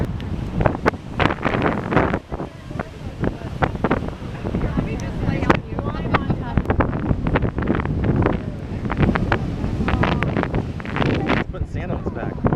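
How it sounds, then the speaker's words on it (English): Strong coastal wind buffets a camera microphone on a beach, producing a constant loud rumble with sharp gusty thumps throughout as people talk underneath. "Whoa, this wind is blowing."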